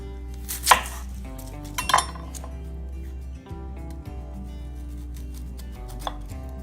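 A knife cuts onions into rings on a cutting board with a handful of clear, close chopping knocks, two louder strikes early and softer cuts after.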